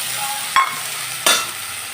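A spice paste of ginger, cumin and turmeric sautés in a pan with a bright, steady sizzle, punctuated by two short bursts of stirring or added liquid.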